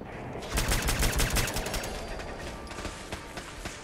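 Rapid bursts of automatic gunfire in the Fallout video game, loudest in the first two seconds and then thinning into scattered shots.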